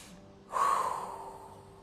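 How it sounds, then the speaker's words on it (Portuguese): Deep, slow breath during a guided relaxation breathing exercise, one soft airy inhale or exhale swelling up after a quiet start and gently fading, close and alone. "Faça 7 respirações leves, profundas, sentindo o ar entrar."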